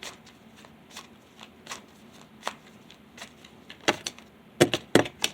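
Tarot cards being shuffled for a reading, a run of light papery riffles and flicks that grows denser and sharper toward the end, close and fairly quiet with no talking.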